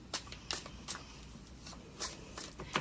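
Tarot cards being shuffled and drawn, a series of crisp riffling and flicking bursts recurring every half second or so, close and fairly quiet with no talking.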